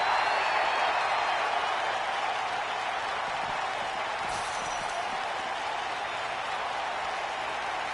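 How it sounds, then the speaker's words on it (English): Loud, steady roar of a large arena crowd at a WWE 2K19 wrestling event in Philadelphia, a dense wash of cheering and applause that holds throughout with no clear breaks. "We've got a raucous crowd here in Philadelphia tonight"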